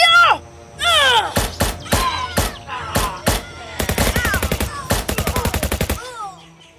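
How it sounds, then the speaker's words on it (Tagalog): Guns fire at enemies hiding in a cornfield, with sharp single shots giving way to rapid bursts of automatic fire, and shouting voices mixed in. "Pinaputukan namin ang mga kalaban na nagtatago sa maisan"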